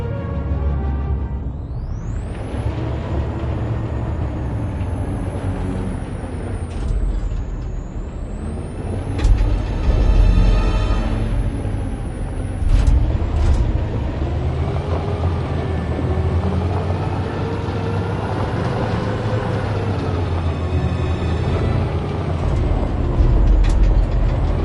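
A truck engine roars steadily with hissing air brakes and mechanical clanks in a PS4 video game, loud and close with no talk.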